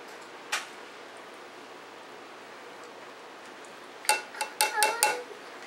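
A spoon works cold milk into self-rising flour in a bowl: one lone clink, then a quick run of five or six clattering taps near the end, close-up against a quiet room.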